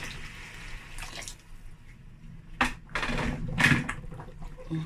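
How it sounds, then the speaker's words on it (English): Water pours from a kettle into a cooking pot in several splashy bursts, gurgling and hissing close by, with brief pauses between pours. "So I'm going to add water from the kettle"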